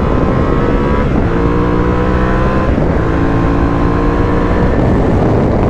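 A Yamaha Tenere 700 World Raid adventure motorcycle accelerates on asphalt, its engine note rising through the gears with a brief dip at a shift, loud and steady with strong wind rush throughout.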